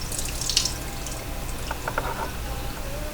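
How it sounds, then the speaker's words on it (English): Water drains from canned potatoes, splashing and trickling steadily, with a few brief drips and clinks partway through; close and moderately loud, no talking. "Make sure you get all the water out of the potatoes."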